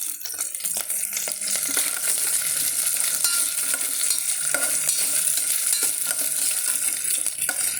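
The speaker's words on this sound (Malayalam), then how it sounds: "തേങ്ങാക്കൊത്ത് നമ്മൾ ചെറുതായിട്ട് അരിഞ്ഞ് വെച്ചിരുന്നതാണ് അതിട്ട് കൊടുക്കാൻ നമുക്ക് നന്നായിട്ടൊന്ന് മുരിച്ചെടുക്കാം" Small chopped coconut pieces roast in a pan, giving a continuous close sizzle broken by frequent scraping, stirring strokes with no talking.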